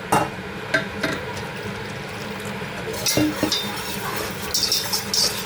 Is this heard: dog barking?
no